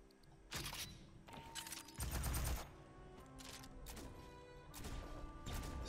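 Rapid weapon fire in Aliens Fireteam Elite: dense bursts of automatic shots crackle and pound in quick succession, fairly quiet overall, with mechanical clicks between bursts and no speech over it.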